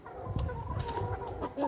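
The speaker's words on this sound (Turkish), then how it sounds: "Tavuklara ekmek ıslattım. Yiyorlar." Chickens cluck and murmur steadily while eating soaked bread, with soft overlapping clucks and brief higher calls close by in an outdoor yard.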